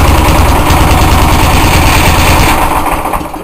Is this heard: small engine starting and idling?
yes